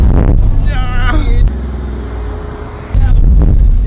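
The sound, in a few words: supercar drifting on a drift lesson in Dubai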